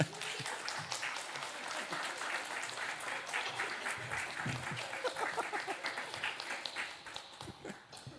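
Warm, continuous applause rises from a church congregation at a whole-family worship service as the pastor comes forward to preach, steady rippling clapping filling the hall and beginning to thin near the end.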